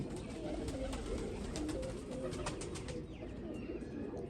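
Pigeons coo softly in low, repeated murmurs, with a few faint chirps and some background noise.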